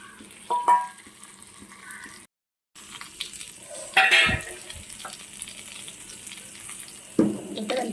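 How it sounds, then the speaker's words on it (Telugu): Chicken leg pieces fry in a little oil, a steady low sizzle with occasional stirring clatters and scraping of a utensil against the pan, no talking. "మనం తక్కువ ఆయిల్తో ఎలా ఫ్రై చేసుకోవచ్చు"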